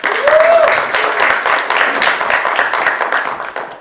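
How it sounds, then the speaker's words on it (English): An audience gives loud, sustained applause for a master teacher introduced at a fall event, with steady dense clapping and a brief whistle or cheer near the start. "please join me in a round of applause for Ms. Shoshana Hershkowitz"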